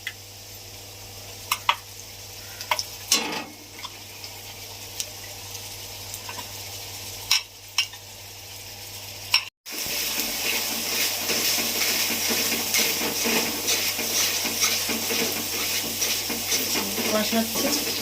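Spice paste of ground coriander, cumin, ginger, dried red chilli and cardamom sizzling and hissing in hot oil for Bengali tel koi fish curry, with stirring clicks; quieter at first, then a loud steady sizzle after a brief cut.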